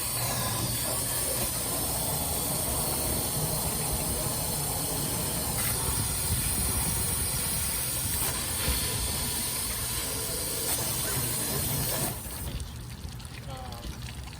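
Steam hisses steadily as water hits fire in a doll house flow path fire prop during a demonstration drill, a loud continuous broadband rush lasting over twelve seconds before easing, with voices faintly underneath.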